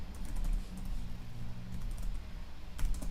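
Keys tapped steadily on a computer keyboard while a message is typed into a support chat field, with soft clustered clicks and a sharper burst near the end.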